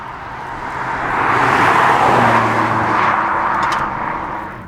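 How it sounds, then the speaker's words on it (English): BMW M140i hot hatchback with a 3-litre straight-six engine, a broad, loud engine roar that swells and holds steady as the car drives close by, then eases slightly, with no voices over it. "A 3-litre straight six is a fairly unusual configuration in any car, let alone in a fairly small hatchback."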